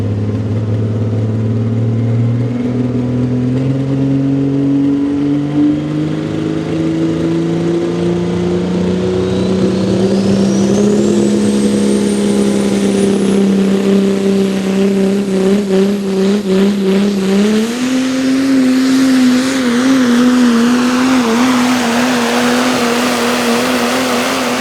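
Diesel 4x4 truck engine at a Leesport, Pennsylvania truck pull, roaring close and loud without a break as it pulls the sled, its pitch climbing slowly and steadily over about twenty-five seconds.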